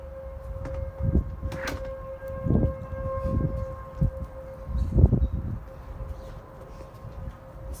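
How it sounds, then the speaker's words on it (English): A T-128 tornado siren under test in Royse City, Texas wails as a steady, loud tone across the whole stretch, with pulsing low rumble and outdoor ambience beneath it and no talking. "this is the tornado siren in Royse City, Texas. It is being tested right now."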